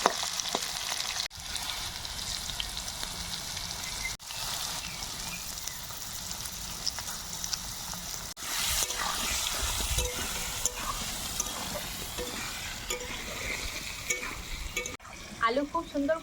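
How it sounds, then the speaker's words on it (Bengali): Potatoes, two kinds together with salt and turmeric, fry and get stirred in a pan for a vegetable ghonto, giving a steady broadband sizzle with scraping spoon strokes and a few brief pauses, fairly close and without talk. "আলু খুব সুন্দর করে ভেজে নিয়েছি, এই দেখুন একদম লাল লাল করে ভেজে নিয়েছি।"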